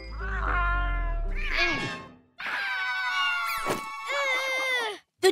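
Cartoon kitten meowing in a series of high, drawn-out cries, loud and close, with a brief pause in the middle before a final wailing meow.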